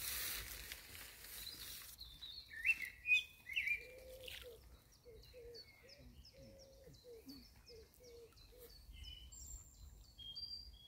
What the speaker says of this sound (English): You can hear the sound of birds were pretty pretty.